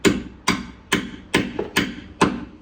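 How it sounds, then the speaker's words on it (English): Six evenly spaced metallic hammer taps on a crusty, rusty socket during a rear disc brake job ring out sharply, close and alone, each with a brief tinny decay. "Give it a few hammer taps."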